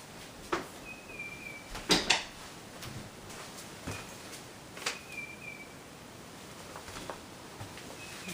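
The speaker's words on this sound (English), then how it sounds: "I just stepped away for a moment there to close the door" An indoor door being closed during a lecture, heard as a few sharp clacks and thumps around the two-second mark with softer knocks scattered later, close and otherwise quiet.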